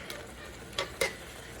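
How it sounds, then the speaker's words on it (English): Marinara sauce with sausage, garlic, peppers, onions and oregano simmering in a crockpot, making a faint, steady bubbling hiss broken by two soft ticks. "There it is, simmering away."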